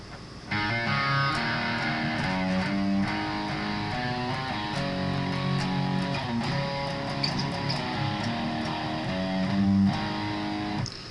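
An electric guitar plays a steady repeating riff of simple low notes starting on open low E, continuous and moderately loud throughout, with no talking.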